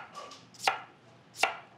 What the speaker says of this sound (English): So I'm gonna slice these up very thinly.